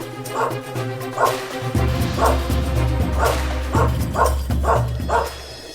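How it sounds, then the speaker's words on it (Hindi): A dog barks several times in an uneven series over a loud, steady background of music and noise. "दिलावर पे भौंकेगा तो मरेगा।"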